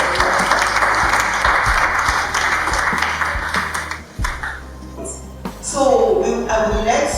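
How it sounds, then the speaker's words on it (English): Summit audience giving loud applause, dense clapping that fades out midway, then a voice speaks near the end. "Please, I think she deserves a big round of applause."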